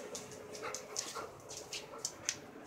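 A dog whimpers and yips in a run of short, high, close-up cries over a busy background during a play session with dogs.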